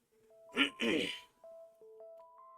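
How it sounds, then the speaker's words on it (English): A short, voiced throat clearing in the Locked Room on Rails detective game, a couple of rough bursts followed by soft tonal chimes that sit alone without talk. "With a quick bow to the Colonel, I clear my throat."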